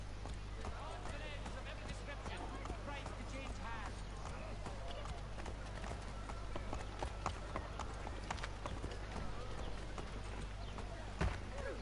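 Horse hooves clip-clopping in the Assassin's Creed video game, steady rhythmic thuds running under game dialogue and a constant low hum, fairly faint.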